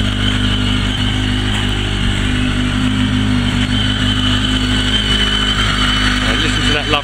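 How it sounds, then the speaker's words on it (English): A motorcycle with an Akrapovic exhaust rumbles loud and close, holding a deep, steady engine drone with swells of revving. "Listen to that lovely exhaust, absolutely gorgeous. I do love the sound of the Aquapovich exhaust."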